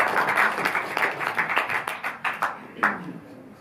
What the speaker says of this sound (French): je vous demande à applaudir à nouveau Alain Guiraudy.